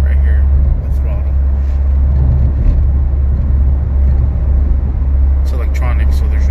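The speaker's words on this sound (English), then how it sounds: "6th gear, full throttle." A tuned car's engine held at full throttle in sixth gear, its electronic throttle stopping at 80 percent, gives a loud, steady, low drone heard from inside the cabin, with a brief voice near the end.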